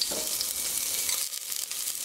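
Whole spices such as cumin, cardamom and pepper dropped into hot oil in a pressure cooker, producing a continuous bright hiss and sizzle, close and steady, with faint scraping near the end.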